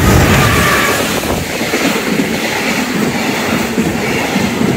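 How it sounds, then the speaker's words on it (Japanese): EF210 "Momotaro" electric locomotive hauling a long freight train of about twenty wagons across the Lake Hamana railway bridge, a loud, steady rumbling roar with dense wheel clatter filling the whole stretch, no voices. "貨物列車が通過いたしますということで、今度は下り列車の通過です。"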